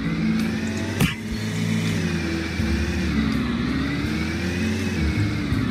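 A car in the video game Lumber Tycoon 2 drives into a tree. Its engine revs loud and steady throughout, with a brief thump about one second in.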